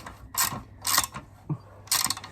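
A tight oil drain bolt being wrenched loose on a dirt bike during an oil change, giving three separate bursts of ratcheting, grinding mechanical effort with short pauses between them, close and moderately loud.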